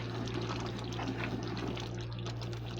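Rice and lentils simmer in a pot for biryani-style paruppu sadam. The boil makes a soft, steady bubbling and gurgling over a constant low hum, close and even throughout.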